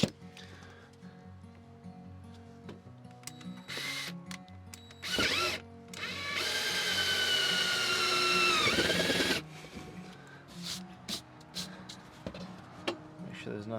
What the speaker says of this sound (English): And now we're just gonna get to drilling.